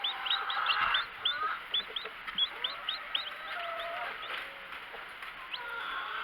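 A broody hen clucks in short repeated calls beside her freshly hatched chicks, with a second hen nearby, the soft rhythmic clucks steady and close over a faint background.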